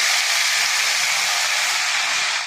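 Helencha greens fry in hot oil with salt and turmeric, giving a loud, steady, close sizzle that runs the whole time with no talking.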